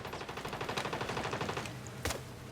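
Rapid automatic gunfire in the video game Wayfarer, a fast rattling burst of shots, loud and close, with one sharper crack near the end.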